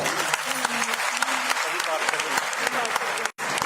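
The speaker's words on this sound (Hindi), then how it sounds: "आप सबके लिए जोरदार तालियां" An audience at a women's conference in Panchkula claps loudly, with individual sharp claps standing out against steady applause. A voice sounds over it, and the sound cuts off briefly near the end.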